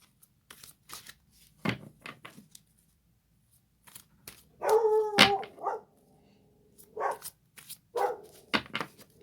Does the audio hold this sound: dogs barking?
yes